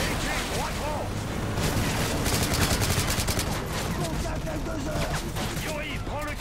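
Sustained automatic gunfire with scattered explosions from the video game Call of Duty: Modern Warfare 3, including heavy .50 caliber cover fire, loud and continuous throughout with a voice talking over the shooting.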